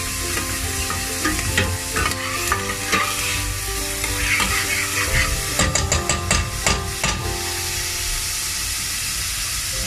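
Onion and garlic frying in a pan for a ham carbonara, with steady close sizzling and repeated scraping, clattering stirs from a utensil throughout, louder clacks bunching together near the end.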